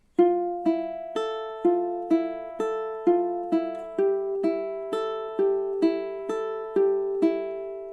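A ukulele plays measures 13 and 14 of a one-finger fingerpicking etude, a steady run of about fifteen clearly plucked, ringing notes at an even moderate tempo, close and alone with no voices.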